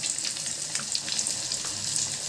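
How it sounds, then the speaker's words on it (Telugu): Pieces of fish sizzle and crackle in hot oil in a pan, a dense, steady frying hiss with scattered pops, close and moderately loud with no voices. "ఇప్పుడు రెండో చేప ముక్కను వేసాము. నూనె బాగా కాగాలండి"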